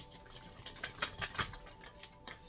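Tarot cards being shuffled by hand at close range, a quick run of soft papery riffles and flicks in short bursts, fairly quiet with no talking.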